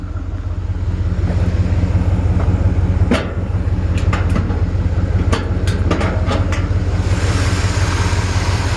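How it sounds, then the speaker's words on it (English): A 1958 Chevrolet 3100 Apache truck engine idles close and steady with a low continuous rumble, a few sharp clicks and taps scattered over it and a slight change of tone near the end. "I'll let you hear this engine real quick"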